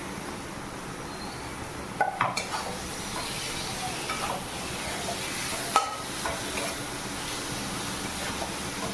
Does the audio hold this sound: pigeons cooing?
no